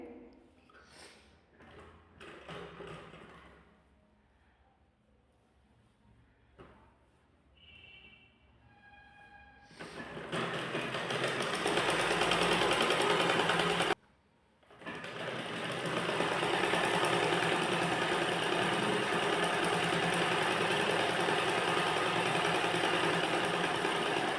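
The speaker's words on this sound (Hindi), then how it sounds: "तो हम पहले यहाँ से इस तरह से सिल लेंगे।" A sewing machine stitches ladies' trousers where elastic will be fitted. Quiet handling noises come first, then a loud, steady whirring run. It stops briefly and resumes close up.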